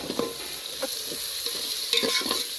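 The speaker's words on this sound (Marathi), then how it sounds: "त्याला मस्त हलवून घ्यायचं. टमाटर चांगलं मऊ होईपर्यंत." Tomato, mint and coriander frying in a pan while being stirred, with a steady sizzle and several scraping strokes of the spoon spread across the moment.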